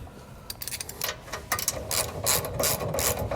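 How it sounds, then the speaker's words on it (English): A ratchet wrench with a 9/16 inch socket tightens a bolt on an RV jack stabilizer kit for a 2022 Jayco Jay Feather. It gives quick, close, steady clicking strokes. "we'll go ahead and tighten this down using a 9/16 inch socket and wrench"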